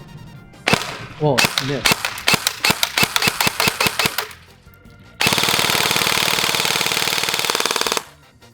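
Bursts of sharp airsoft gunfire from an ARP9 SMG on a stock magazine, first single and clustered snaps, then a long continuous full-auto stream, loud and close, with a brief spoken exclamation.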